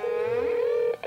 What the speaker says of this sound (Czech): A proto hned zavolíte toto číslo.